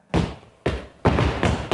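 Four heavy foot stomps land on the floor in a body percussion exercise, close and loud, with uneven gaps between the dull thuds.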